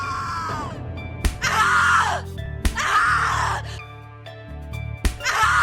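A woman screams in the horror game The Cat Lady, three long, loud anguished shrieks separated by sharp impacts and a low droning background, with no other voices.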